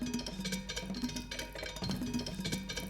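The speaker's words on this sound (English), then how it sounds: "We've got a campfire." Campfire crackle noise layer from the Bloom Drum Percussion plugin: a soft, steady bed of dense crackling texture sitting under repeated tonal percussion hits.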